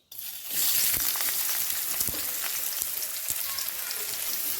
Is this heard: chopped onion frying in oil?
yes